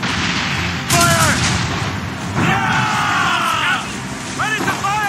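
Ship cannons booming in Assassin's Creed Rogue during a naval battle, several heavy shots in quick succession with crew voices shouting over the din.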